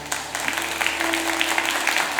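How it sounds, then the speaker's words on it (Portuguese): Congregation applauding during a Pentecost vigil sermon, a short dense burst of clapping from many people, fairly even and moderately loud, with a faint steady tone running underneath. "Pode aplaudir isso."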